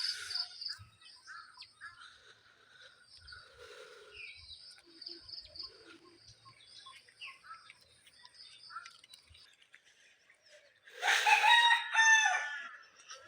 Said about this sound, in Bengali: সকালবেলা খোয়ার থেকে ছুটে মনে হয় ডাকটা দিছে।